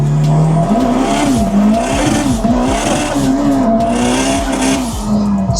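An AWD turbocharged Honda Civic pulls hard on the road, its engine note loud and close, climbing steadily through the revs with a brief shift and a sustained drone throughout.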